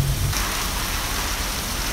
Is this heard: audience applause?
no